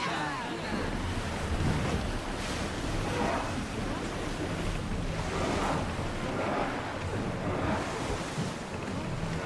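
A sailing ship in Assassin's Creed Odyssey cuts across the sea with constant rushing surf and gusting wind, a dense, continuous wash of water and air close around the hull.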